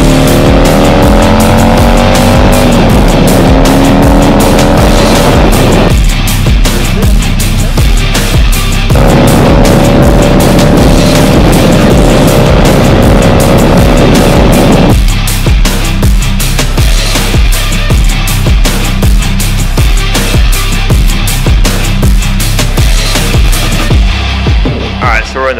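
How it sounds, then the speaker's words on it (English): A loud Harley-Davidson Softail engine with American aftermarket exhaust roars and revs continuously in a shop, its pitch rising and falling through repeated throttle bursts, close and dominant throughout. "are not used to exhaust like this in Germany. This is American exhaust."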